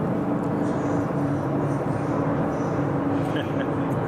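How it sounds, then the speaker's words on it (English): A helicopter passes overhead in Los Angeles, heard as a steady, dense rumbling drone that holds at an even level throughout without fading. "Got a helicopter."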